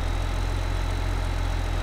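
Tractor or farm vehicle engine idling in a farming simulator game on the Hof Bergmann map, a steady low rumbling hum that holds constant throughout with no speech.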